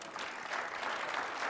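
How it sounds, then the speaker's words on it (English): Steady applause from a seated audience at a political policy event, a dense even wash of many hands clapping close by, holding level throughout with no voices over it. "It's okay to clap, you can catch up"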